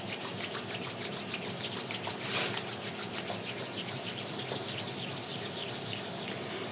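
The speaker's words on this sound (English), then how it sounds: "Bring your hands together and rub them together a little bit more vigorously, still gentle, but a little quicker with the movement to warm your hands up." Hands rub together quickly and vigorously during a gentle hand self-care routine, making a soft, close, continuous friction hiss that carries on steadily for several seconds without any voice.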